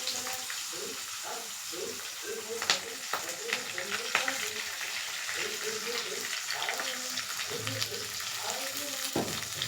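Green chilies, onion and curry leaves frying in a pan for a potato dish, a steady soft sizzle with stirring scrapes underneath, close and moderately quiet, with some background noise and no clear talk.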